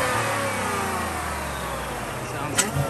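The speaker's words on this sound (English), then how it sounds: "So, but onto the charger whine here." Supercharger whine from a sleeper Ford F-150 truck engine, factory-limited to 4,000 RPM, heard as a steady close engine drone with a rising whine and a brief sharper burst near the end.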